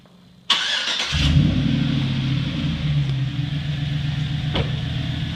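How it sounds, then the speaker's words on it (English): A truck or car with a good battery, used for jump-starting a dead one, cranks briefly and catches, then settles into a steady, close idle rumble that runs to the end. "you'll go and crank the truck or car that is got a good battery. You can crank it up."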